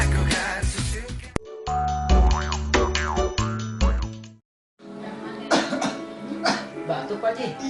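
A man gives several harsh, close coughs mixed with throat clearing, set against comedic boing sound effects and short musical jingles, and a brief silence falls midway.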